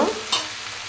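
Malabar spinach greens cooking in a pan, a quick stirring scrape over a soft, steady sizzle.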